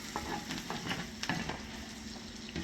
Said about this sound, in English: Now I'm toasting the rice here in a butter and garlic olive